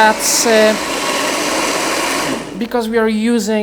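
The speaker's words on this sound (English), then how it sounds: "While this is blending, we're gonna just heat up our wrap" A kitchen blender runs during vegan cooking, a loud steady whirring roar that fills most of the few seconds, with a person talking over its start and again as it stops.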